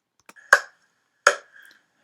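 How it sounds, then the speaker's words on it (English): Three sharp hand claps come back from a played-back recording, evenly spaced about three-quarters of a second apart, each crisp and close with a short tail and a faint tone between them. "So let's play the hand clappings again"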